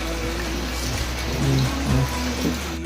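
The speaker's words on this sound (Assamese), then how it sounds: "আৰু ইফালে কেনেকুৱাকৈ পানী পৰিছে চাওক" Rainwater falls in a steady, close patter, with heavier drips landing now and then over the constant wash of rain and no voices.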